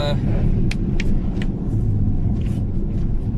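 A car rolling along the road on Uniroyal Rainsport 5 tyres, heard from inside as a steady, loud low rumble of tyre and road noise with faint ticks above it.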